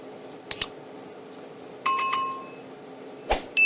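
Several short bell dings ring out as a sound effect, a pair of quick strikes, a longer sustained chime, then more single dings, clear over a quiet background.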